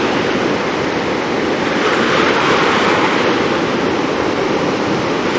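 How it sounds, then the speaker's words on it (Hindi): Steady roar of a rushing river along a cycling route from Delhi to Rishikesh, a dense, continuous wash of water noise that stays even and close throughout with no voices. "ये जो शोर है ना पानी का"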